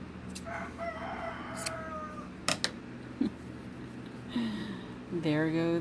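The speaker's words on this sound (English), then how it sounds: "There go the chickens." Chickens clucking and crowing in the background, a few short calls spread out and then a longer crowing call at the end, at moderate distance with steady background noise.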